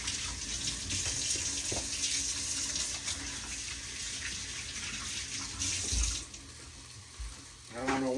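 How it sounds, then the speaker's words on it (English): Tap water runs steadily into a sink for handwashing, a continuous close splashing rush that swells and dips slightly and ends with a brief gurgle. "I'm going to wash my hands anyway."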